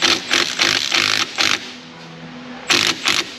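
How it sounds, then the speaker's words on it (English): An impact wrench spins a nut off a 2002 Jeep Grand Cherokee WJ 4.7, loud and close, in several rapid bursts with short pauses between them. "Let's get in there with an impact and spin this guy out."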